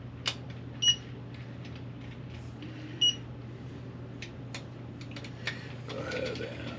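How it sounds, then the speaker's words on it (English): A Wheeler torque wrench tightens the screws of an Arken scope mount on an FX Maverick Sniper air rifle. Two crisp metallic clicks sound close by over a steady low room hum, with faint handling taps in between. "This is the Wheeler torque wrench, and we're going to make sure this is nice and tight backwards."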